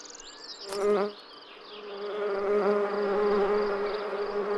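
A bee buzzes steadily up close, its drone swelling briefly louder near the start, then holding an even, continuous hum.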